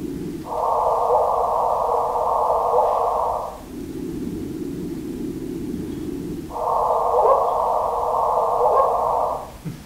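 A gravitational wave chirp rendered as sound plays alone as steady tonal bursts that alternate between a higher buzzing band and a lower hum over about ten seconds.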